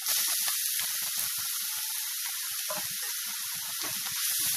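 Carrots and onion frying in a pan for a carrot palya, a steady loud sizzle and hiss with small popping crackles throughout.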